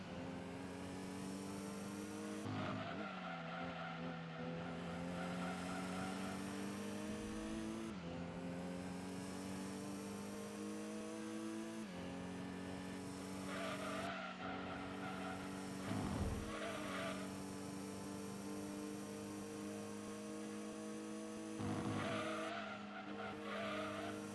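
Gran Turismo 2 GT1 race car, about 682 horsepower and 900 kilograms, screaming at high revs with engine pitch climbing through gear shifts and repeated tire squeal on corners, loud and continuous, no talking.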